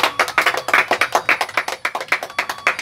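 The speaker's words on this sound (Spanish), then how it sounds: "¡Aplauso!" Hands clap in a quick, steady rhythm, a couple of people applauding close by for about three seconds with no talking over it.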